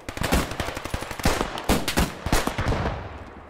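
Machine gun fire in the World War II shooter Squad 44: rapid close bursts of sharp shots, with brief pauses between the bursts, then a trailing echo as the firing stops.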